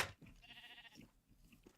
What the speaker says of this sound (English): See if I can breed my sheep again while it's doing its thing